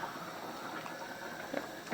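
Water poured into a pot of prawn curry on the stove, a steady gurgling, bubbling flow heard up close and moderately quiet, with no talking.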